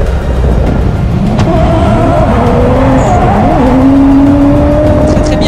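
A Toyota Supra drifts on track at a French drift championship final: a loud, continuous engine roar with long tire squeals rising and falling across the clip, under steady commentator talk.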